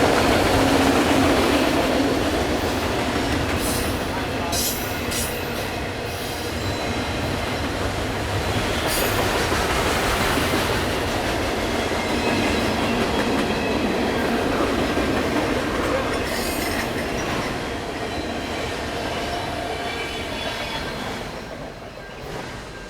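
A long freight train rumbles past nearby, wheels grinding and squealing on the rails in a loud, continuous roar that slowly eases off at the end.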